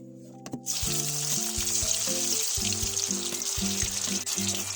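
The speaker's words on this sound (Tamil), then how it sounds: "இப்ப நம்ம எண்ணெயில போட்டு நல்லா பொரிச்சு எடுத்துக்கலாம்." Meal maker (soya chunk) balls deep-fry in hot oil, starting with a splash, then settling into a steady, bright, continuous sizzling hiss with no talk.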